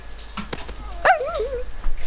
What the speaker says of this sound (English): He's barking at himself in the mirror, Tommy.